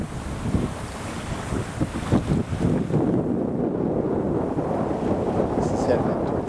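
Steady wind roars across the microphone aboard a sailboat under a big sail, hauling at about 6.5 to 7 knots on a north wind toward Obstruction Pass, with waves and water rushing beneath the hull the whole time.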